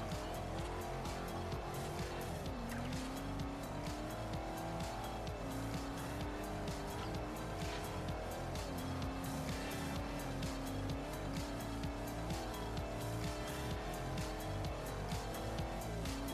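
A car is driven in the racing video game Forza Horizon, with a continuous loud engine roar, shifting revs and occasional tire squeal throughout, without speech.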